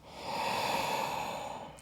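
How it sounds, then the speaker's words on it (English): A slow, deep inhale during a wake-up yoga flow, steady and close, rising smoothly and holding for nearly two seconds with no talking over it. "Breathing in."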